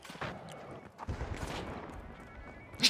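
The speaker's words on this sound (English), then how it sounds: "Did you shoot at me?" Gunfire in the arena shooter The Finals: scattered, fairly quiet bursts of shots spread across a hectic firefight, with a sharper report at the very end.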